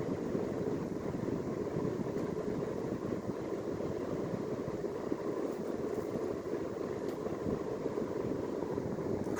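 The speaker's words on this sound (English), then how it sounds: "Cranks out a ton of air just like an Emerson K55 fan should." A second-generation Emerson 52-inch 1895 series ceiling fan, a K55, runs with a steady, even rush of moving air and a low rumble that continue without a break.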